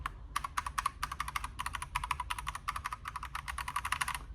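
Keys clatter rapidly on a Redragon K668 RGB gaming keyboard, a steady run of crisp, close clicks in uneven bursts with no talking.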